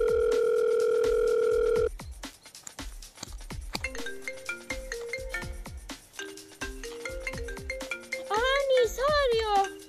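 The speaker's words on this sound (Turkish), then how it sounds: "Ablamı arayacağım şimdi." A steady telephone dial tone sounds for about two seconds while a call is placed in a children's cartoon, then gives way to playful music with plucky notes and a high whistling melody.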